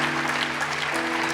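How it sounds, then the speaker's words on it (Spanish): Steady applause from a church congregation fills the whole moment, a dense, even wash of clapping with a faint sustained tone running underneath. "Dele un aplauso de honra al Señor."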